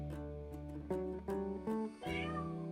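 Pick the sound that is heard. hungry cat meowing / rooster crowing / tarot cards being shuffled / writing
hungry cat meowing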